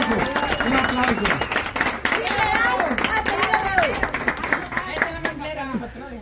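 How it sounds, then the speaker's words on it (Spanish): Clapping from a crowd runs throughout at a steady, fairly loud level, with shouting voices and chatter mixed in over it. "se merece un aplauso, se merece un aplauso. Un aplauso."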